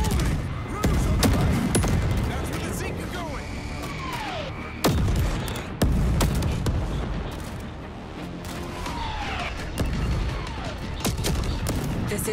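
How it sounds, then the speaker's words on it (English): Bombing and gunfire in the World War Z video game on a New York City street, with dense overlapping bursts of shots and heavy booms at a steady loud level, broken by sharper blasts and whooshing sweeps. "They're bombing the street!"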